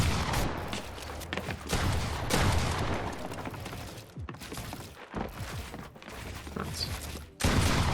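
Dense gunfire during build fights in a shooter video game, continuous loud cracking shots and impacts with brief gaps, packed with clattering noise close up.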